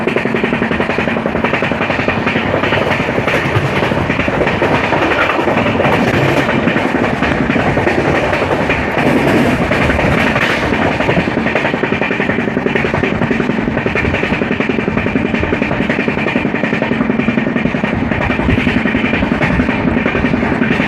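Riding aboard the Amravati SF Express as it runs through Mana station without stopping, a loud, steady rumble and clickety-clack of wheels on rail continues unbroken throughout.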